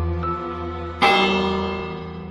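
A bell in the Minecraft video game is struck once over a sustained tonal hum. It rings out brightly and fades slowly, with no voices.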